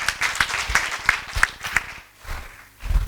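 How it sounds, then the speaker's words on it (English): Audience at a school debate clapping as a speaker walks to the podium, a rhythmic, moderately loud round of applause with distinct beats that tapers off, followed by footsteps and shuffling. "Let's clap for her, please"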